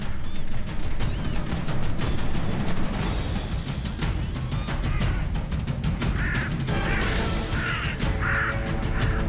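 Crow cawing in wild Wales countryside, harsh repeated calls rising over a dense, loud bed of other birdsong and outdoor noise, several caws clustered toward the end.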